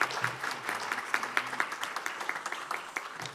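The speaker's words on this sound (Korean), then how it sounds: "이 시간 따뜻한 박수로 환영하도록 하겠습니다." Warm applause from a church congregation welcoming a pastor, a short burst of distinct hand claps at moderate volume that stays fairly steady.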